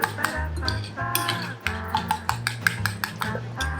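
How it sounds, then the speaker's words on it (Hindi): Metal utensil stirring and clinking against a bowl while breakfast ingredients are mixed with salt and black pepper, a steady series of close scrapes and light knocks over a low background hum. "इन सब चीज़ों को हम अच्छी तरह से इसे मिक्स कर लेंगे।"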